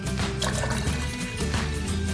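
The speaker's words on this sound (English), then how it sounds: "I'm going to add for this 3 cups of water and 1 cup of milk." Water is poured into a pan of washed rice and moong dal for Tamil Nadu style ven pongal, giving a short, close, continuous splashing pour.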